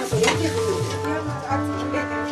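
Tibetan dishes sizzling in a pan and being stirred, close and loud, with scraping stir strokes over steady frying and a tonal hum running beneath.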